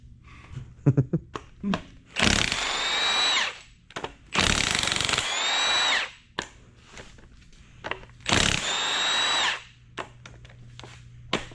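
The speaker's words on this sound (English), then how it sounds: "they come out quicker if you use a silver socket on your impact" An impact wrench removes bolts from a junkyard LS 6.2-litre engine in three loud, close bursts of whirring hammering, each lasting about two seconds, with softer clanks and metal handling between them and a voice talking in the gaps.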